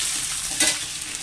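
Chopped kundru (ivy gourd) fries on high heat in a pan, a brief continuous hiss of sizzling with one soft stir or scrape in the middle, close with no talk.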